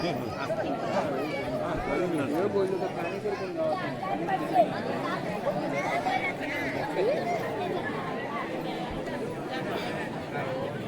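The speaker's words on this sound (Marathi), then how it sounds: "बघा आता गर्दी वाढत चाललेली आहे मंदिराच्या आवारात" People chatter in a dense, steady murmur from many voices in a temple courtyard in Ratnagiri during a Laghurudrabhishek festival, with overlapping conversations all around and no single voice standing out.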